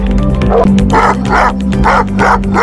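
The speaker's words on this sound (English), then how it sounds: "Powerful and loudest bark. Let's hear it first and we'll decide accordingly." Deep, powerful barks from a Kangal and a Dogo Argentino, guard dog breeds, loud and close, coming in about four heavy woofs spaced roughly half a second apart.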